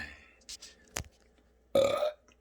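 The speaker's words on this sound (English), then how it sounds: "Coffee burp." A coffee burp rings out loud and close, one long, throaty eructation near the end, with a couple of softer mouth noises before it.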